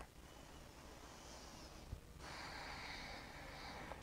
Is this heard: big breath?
yes